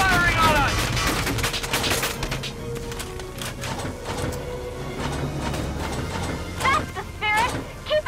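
Enemy troops open fire in the tactical war game Valkyria Chronicles 4, with repeated crisp shots and short bursts under a steady battle backdrop, while voices call out over the shooting.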